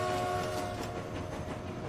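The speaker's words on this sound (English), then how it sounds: "Look at that beautiful, beautiful new train here." A train in the video game Transport Fever, a short horn note over a steady rumble of moving rail cars with a faint clatter, and no talk.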